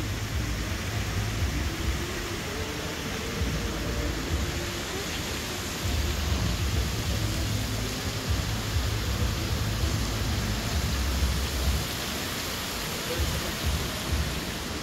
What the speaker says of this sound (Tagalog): Malakas na ang kulog at kidlat.